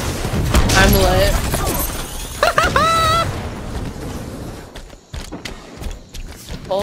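A grenade blast and bursts of gunfire in a Halo-style shooter, booming pops and rapid shots mixed in with excited overlapping voices talking over the action, fading into scattered quieter hits.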